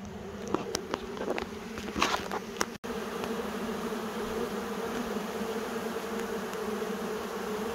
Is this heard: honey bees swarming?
yes